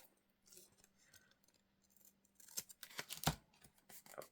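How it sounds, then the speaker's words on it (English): Scissors trimming paper for an altered envelope, a few quiet snipping cuts then louder sharper clipping near the end, close up with no talk. "Now, I need to trim this."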